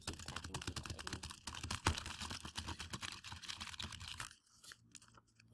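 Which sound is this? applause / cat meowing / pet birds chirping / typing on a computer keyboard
typing on a computer keyboard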